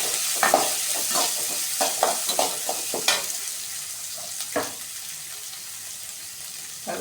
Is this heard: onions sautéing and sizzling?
yes